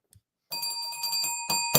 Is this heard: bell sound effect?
yes